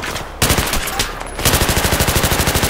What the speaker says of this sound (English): the heavy machine gun